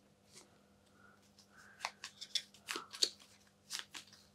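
Cards from the Hastur deck in the Black Rose Wars board game are shuffled by hand, a quiet, close series of crisp papery snaps and swishes that grow busier toward the end, with no voices.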